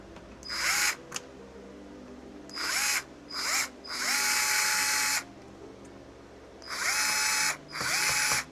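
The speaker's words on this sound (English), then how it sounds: "Let's put the screws back in." A power drill drives screws back into an original Xbox controller, whirring in several short bursts and longer runs with pauses between, loud and close with no talk.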